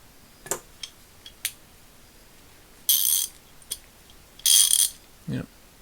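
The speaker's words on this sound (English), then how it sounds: "Yep, it's ratcheting." A MacWork 100-tooth ratchet clicks as it ratchets, with a few scattered light ticks and two short, dense bursts of fine rapid clicking, close and alone.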